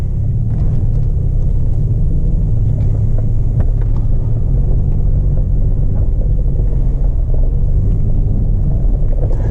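Steady low engine rumble from a car moving slowly and manoeuvring in a parking lot, heard from inside the car, continuous and fairly loud, with faint wind noise and small knocks on top.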